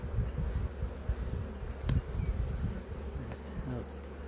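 Honey bees buzz steadily around an opened beehive during a first spring inspection, a dense close hum with individual bees droning past, continuous throughout.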